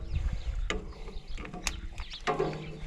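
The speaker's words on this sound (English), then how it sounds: "Probably would be nice if I was in a place where I had more swing of my ratchet" Ratchet wrench clicking on fuel tank lines of an Oliver tractor, a few short close mechanical bursts with brief pawl clicks, working in a cramped spot with little swing, amid a steady low background.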